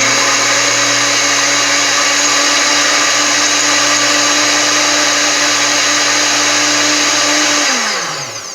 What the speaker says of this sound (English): it's going to blend this up and make it more powdery and into like a powdered, sugar-free powdered sugar